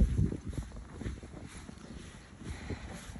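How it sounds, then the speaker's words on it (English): Cold wind blows outdoors on a chilly boat outing, a steady rumbling buffet across the microphone with gusty fluctuations and no voices. "The wind."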